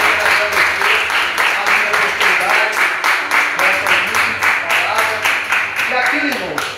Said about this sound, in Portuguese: E se você crê, aplauda o Senhor.